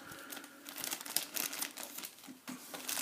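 Plastic wrapping around a ThreeA Judge Dredd action figure crinkles and rustles up close, with quiet, irregular crackling handling noises and no speech.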